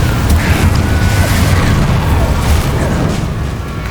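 A Confringo explosion spell in Hogwarts Legacy gives a dense, loud roaring blast that fills the whole stretch, a rumbling burst with crackling debris up close.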